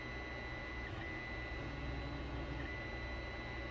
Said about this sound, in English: the mount that I'm 3D printing is still printing those things